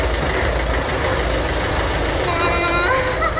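A car engine idles just after starting, a steady low rumble with slight knocking that runs throughout, close and fairly loud, with a voice speaking over it.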